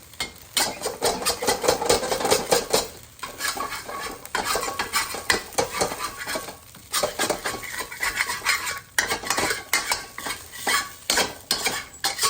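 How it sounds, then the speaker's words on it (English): A metal utensil scrapes hard against a pan after cooking pepper steak, loosening food bits in repeated rough strokes with short pauses, close up and fairly loud, with no talking. "And now I'm going to scrape most of the bits off the pan that I can get."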